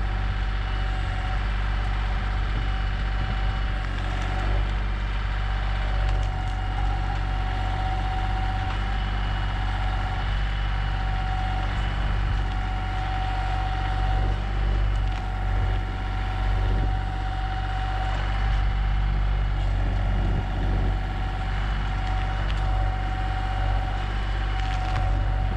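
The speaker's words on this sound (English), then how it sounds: "even the tractor has a hard time with these big stumps" A tractor engine idles and labours steadily while moving big tree stumps on an off-grid property in Alaska, with a low continuous rumble, faint wood creaks and occasional knocks over the entire stretch.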